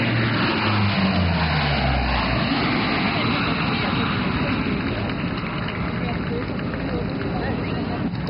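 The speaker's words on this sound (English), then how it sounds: "The C-130 Hercules," A Lockheed C-130 Hercules aircraft produces a loud, continuous, broad engine roar that holds steady throughout, with a tone sliding downward near the start.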